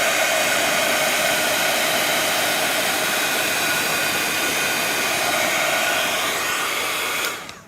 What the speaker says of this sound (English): So we heat emboss that.